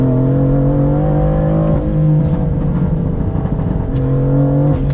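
A tuned BMW M4 (Stage 2, E85, 580 wheel horsepower) roars loudly as it accelerates hard toward redline, pitch climbing quickly before a gear change and another rising pull.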